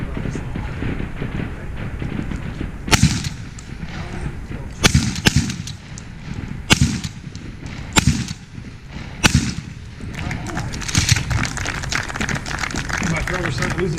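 Shotguns fire in a trick shooting demonstration by an Army education tour, with about six or seven sharp, loud blasts spaced a second or two apart over continuous outdoor noise and voices.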